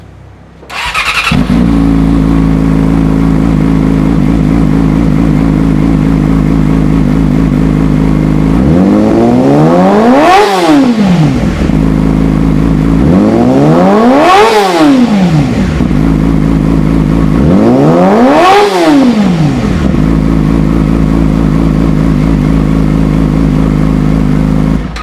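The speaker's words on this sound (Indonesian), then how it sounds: "Moge sih masuknya 600 cc Yamaha R6 pakai knalpot Leovin GP Corsa" A loud Yamaha R6 600cc sport motorcycle with a racing exhaust idles steadily, then revs sharply three times in a row, each rise to a high scream dropping back to a throaty idle.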